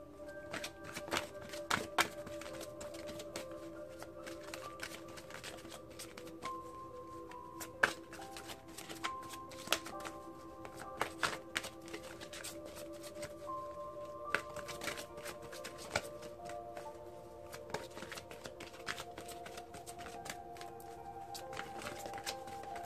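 Tarot cards shuffled by hand in a quiet room, a run of soft riffling and tapping bursts with a few sharper card snaps, steady and close with no talk.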